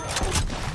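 Rapid SMG fire from a Call of Duty Cold War match, a loud, dense burst of close shots filling the whole brief moment.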